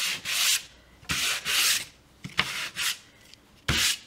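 Hand sanding strokes rasp against a painted wooden slatted surface in several bursts with short pauses, close up and fairly loud, no voices.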